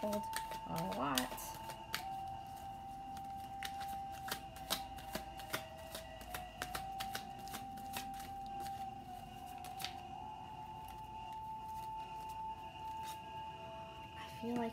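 Tarot cards are shuffled in rapid, crisp riffles and flicks, close and quiet, repeating in irregular bursts under a faint steady tone, with speech at times.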